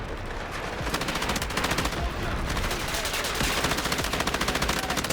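Gunfire in the video game Delta Force: continuous rapid machine-gun bursts, loud and dense, with a steady rattle running throughout and no clear speech.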